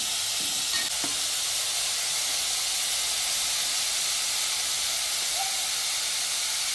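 Onions sautéing with a pinch of salt in a pan for a coconut-milk egg curry give off a steady, even hiss and sizzle throughout, with a few faint stirring knocks near the start and no talking.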